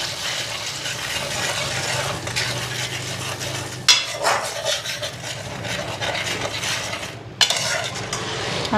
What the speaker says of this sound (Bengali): মাছগুলি দেখো একদম মচমচা করে ভাজা করছি